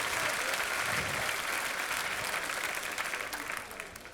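An audience applauds the event staff at the Marathon Jules Bianchi 2024 prize-giving at the Circuit du Castellet, a dense, steady clapping crowd that holds strong and then tapers slightly toward the end.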